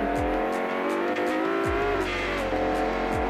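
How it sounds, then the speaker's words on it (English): A fast lawnmower in the BeamNG driving game races along with a strained, high engine whine, while three sharp downward sweeps mark quick passes or shifts, loud and continuous throughout. "This is a fast lawnmower."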